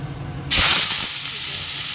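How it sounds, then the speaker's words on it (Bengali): Potato and cauliflower pieces hit a hot wok and set off a sudden loud, broad hiss that holds steady as a sizzle to the end. "আলু আর ফুলকপিটা দিয়ে দিলাম"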